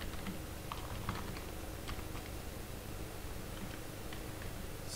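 Faint scattered clicks of a computer keyboard as Excel VBA code is typed, sitting under a constant hiss of background noise.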